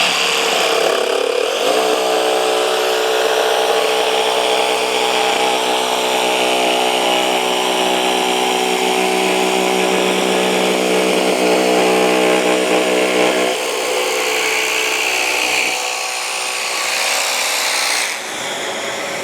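Festool Carvex jigsaw cutting through a workpiece, a steady loud buzzing whine running continuously for most of the stretch, briefly dipping near the end, with no talking.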